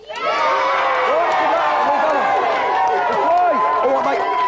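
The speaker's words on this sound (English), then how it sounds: "Give them a big cheer." A studio audience at a Gamesmaster game show cheers, whoops and shouts loudly for a team, a dense sustained roar that begins abruptly and holds for several seconds.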